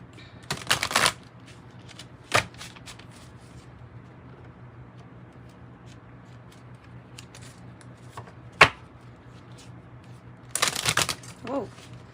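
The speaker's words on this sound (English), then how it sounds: "I could pull a different oracle card for you, one from this little snazzy deck, the Sacred Spirit." An oracle card deck, the Sacred Spirit deck, is shuffled in several short crisp bursts of riffling, with quiet stretches and small taps between them, heard close up.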